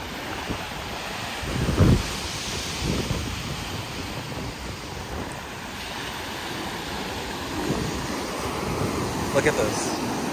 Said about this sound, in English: These are some intense waves.